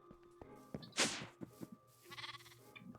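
Sheep bleat nearby in modded Minecraft amid scattered thumps and shuffling footsteps, with a brief rustling burst and a wavering bleat toward the end.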